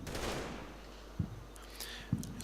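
Off-map mortar rounds land in the Combat Mission: Battle for Normandy war game, two faint, distant thuds spaced about a second apart over low battlefield rumble.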